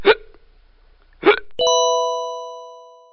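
Two short, sharp hiccups a little over a second apart, followed by a bright ringing chime that slowly fades.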